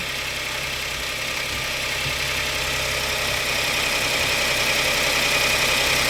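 A 2020 Hyundai Palisade engine idles just after a thermostat change, a steady close mid-pitched hum with a slight rising drone and no speech.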